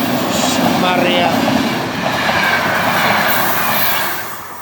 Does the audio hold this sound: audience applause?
no